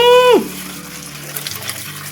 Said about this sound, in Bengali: এবার জল দিয়ে ধো।